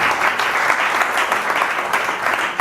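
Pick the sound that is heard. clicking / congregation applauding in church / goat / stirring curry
congregation applauding in church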